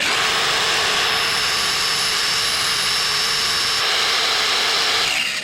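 A grinder runs off an OUPES Exodus 1500 portable power station while a space heater on high shares the load, giving a loud, steady, high-pitched whine that holds for several seconds before winding down.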